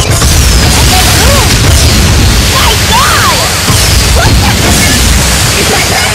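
Nitro barrels explode one after another as a taxi drives through them in Fortnite, a loud, continuous roar of overlapping booms and bursts that fills the whole stretch, with a voice talking over it.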